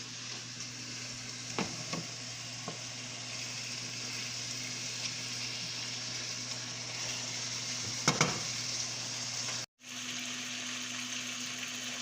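Mushrooms sauté on high heat in a pan with oil, a steady even sizzle with a couple of soft clinks and stirs, heard close.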